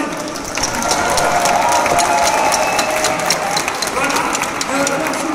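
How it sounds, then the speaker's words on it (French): Audience at a Christmas nativity event in Provins applauding, a continuous dense clatter of many hands with some cheering, loud and sustained throughout with a voice heard over it. "Un tonnerre d'applaudissements pour elle."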